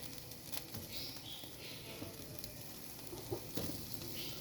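Food sizzling as it roasts on a barbecue grill outdoors, a soft continuous crackle and hiss with occasional pops, faint and steady with no talk.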